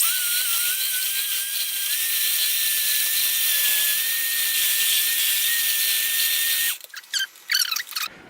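An electric mixer whines steadily through vegan cookie dough made with cane sugar, loud and close with a high sustained pitch, then cuts off abruptly near the end, followed by a few clattering bowl and utensil sounds.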